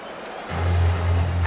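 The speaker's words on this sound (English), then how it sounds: "it is met by a huge cheer from the London crowd" A large London crowd at a UFC fight erupts in a loud, sustained cheer and roar that fills the arena, rising suddenly after a quieter moment and holding steady.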